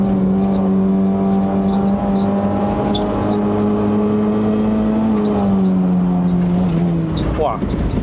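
A Honda City Hatchback 1.5L GN5 climbs a mountain road to Genting, Malaysia, with its engine held at high revs. The drone is loud and steady, rises slightly, then drops near the end, and a voice talks over it.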